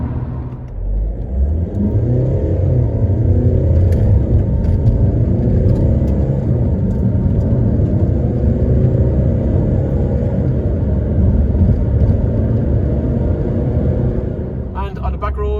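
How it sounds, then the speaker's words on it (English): A Honda Civic diesel pulls hard through its gears on a motorway, its engine rumbling and rising and settling through the shifts. The cabin noise is steady and someone talks over it. "First gear, second gear, third gear, fourth gear, 100 kilometers an hour into 5th gear, and 6th gear we're up into 120."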